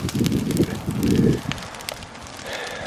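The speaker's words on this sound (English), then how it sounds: "that fire really got ripping" A brush pile fire burns fiercely outdoors in rising wind, with rough gusty roaring and scattered sharp crackles close to the microphone.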